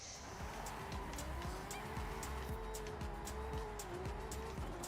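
A drift car in the Forza Horizon 5 racing game slides continuously with steady, loud tire squeal over a revving engine, the pitch wavering as it holds the skid without any talk.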